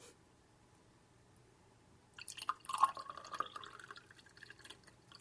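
A drink is poured into a glass in a home kitchen: after two seconds of near silence, a close, steady liquid stream starts, with a rising fill tone and small splashes that continue to the end.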